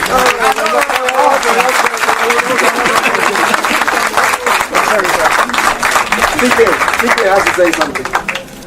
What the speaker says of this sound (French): encore des applaudissements pour Obi Emelonye